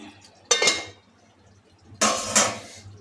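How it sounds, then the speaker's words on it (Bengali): A metal lid is set back on a kadai of brinjal and hilsa cooking, giving two short clanks about a second and a half apart, close and fairly loud against a quiet background. "আবার ঢাকাটা দিয়ে দিলাম"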